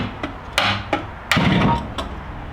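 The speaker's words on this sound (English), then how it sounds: "I'm holding the fan up like this, and I'm using a nice soft hammer" A soft hammer taps on the radiator fan motor of a 1998 Jeep Grand Cherokee 5.9L, giving about six close, sharp knocks at uneven intervals with no talking.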